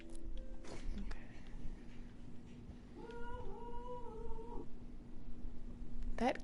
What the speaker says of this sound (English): That cat noise is back. And it is loud.